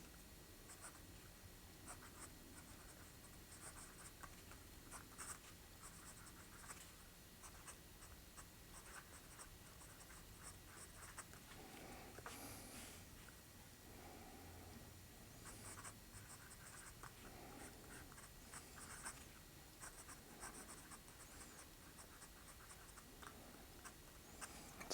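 A Hinze Pens Evancio fountain pen with a fine titanium number 8 nib scratches softly across paper in a steady run of strokes, with short pauses between words, quiet and close.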